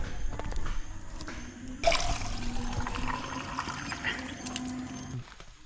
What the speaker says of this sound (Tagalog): Tubig sa gripo.